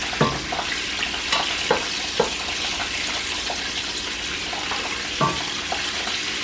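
Cabbage and garlic frying in a pan, a steady sizzle under close clinks and scrapes of a utensil stirring against the pan, with a few sharper knocks.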